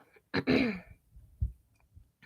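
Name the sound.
throat clearing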